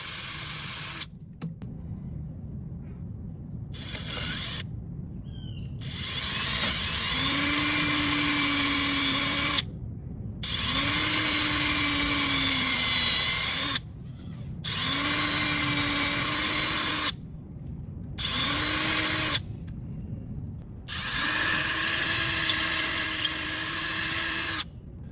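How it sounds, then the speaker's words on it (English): A power drill bores holes through boat fiberglass in repeated bursts of several seconds each, separated by short pauses, with a whining pitch that rises as the motor spins up, close and fairly loud. "Here I also drill twice. First with a thin drill and then to the size I need, so that the fiberglass doesn't chip off."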